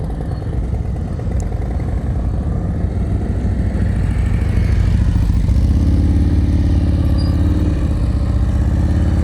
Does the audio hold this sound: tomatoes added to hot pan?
no